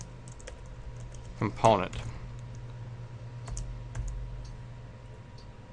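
Code typed on a computer keyboard in Visual Studio 2010 for VB.net: a few scattered, faint key clicks over a low background hum, with a short burst of talk partway through.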